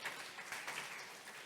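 A church congregation claps for a seminary student, a short burst of soft, fairly distant applause that stays steady for about a second and a half.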